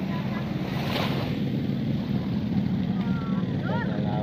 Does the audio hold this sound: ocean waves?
yes